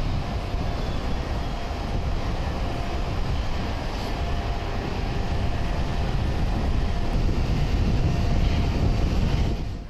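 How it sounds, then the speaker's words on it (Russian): A jet airliner carrying the Turkish head of state lands at Fizuli International Airport in Azerbaijan. A loud, broadband engine roar and rush fills the whole stretch steadily, close by, with no voices. "Самолет главы турецкого государства приземлился в международном аэропорту Физули."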